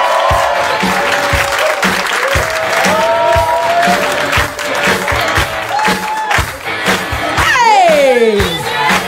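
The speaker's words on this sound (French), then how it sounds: "Du bruit, s'il vous plaît, pour Geoffrey Dervan." A comedy club audience claps and cheers for a comedian walking on, dense steady applause with whoops and shouts rising above it, and a bright whistling cry near the end.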